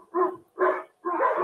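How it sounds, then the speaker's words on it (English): Dogs bark in three separate bursts, fairly close and loud, as heard through a laptop's built-in microphone during a webcam audio comparison. "this is what it sounds like with barking dogs going on in the background"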